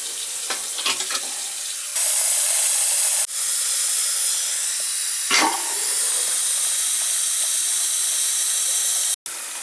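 Tap water runs hard into a newly installed wall-hung bathroom sink, a loud, steady hiss of the filling basin with a brief knock partway through, ending in an abrupt cutoff.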